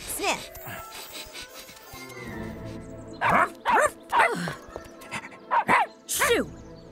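A cartoon dog in an animated dinosaur series yips and barks in a quick string of sharp, close barks, with characters' voices and light sounds before them.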